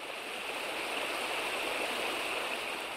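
River water flowing as a radio drama sound effect, a steady, even rushing and gurgling stream that fills the whole clip at moderate volume, with no voices.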